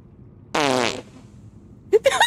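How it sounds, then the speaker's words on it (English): Fart sound effects from a soundboard, a loud rising, buzzy tonal blast followed after a gap by a shorter squeaky sputtering pair, close and clear with no voices. "I hear the farts."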